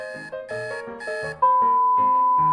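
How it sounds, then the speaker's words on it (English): A cartoon alarm clock in Family Guy goes off with a rhythmic series of bright electronic beeps, then breaks into a continuous loud ringing tone. "Chris, your alarm is going off."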